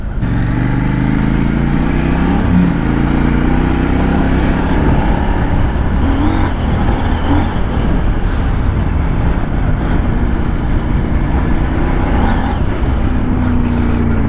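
A CF Moto 800MT adventure motorcycle accelerates hard with a little rear wheel spin, its engine a loud, close, continuous roar that rises and falls steadily, with no one speaking.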